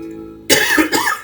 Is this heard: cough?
yes